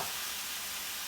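A pan of high-protein stir-fry doused with soy sauce hisses with a dense, steady sizzle, close and continuous for about a second with no voices.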